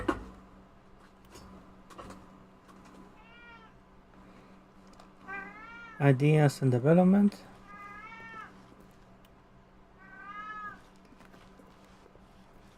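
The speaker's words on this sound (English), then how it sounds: "My cat really wants attention." A pet cat meows for attention several times, close by, with a louder strained cry in the middle, while a person talks and quiet game sounds continue underneath.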